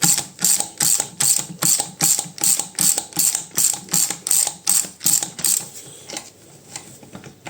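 A ratchet wrench clicks in fast, steady bursts while bolts are tightened during reassembly of a Fiat gearbox, about a dozen loud, close rhythmic strokes before trailing into quieter handling noise.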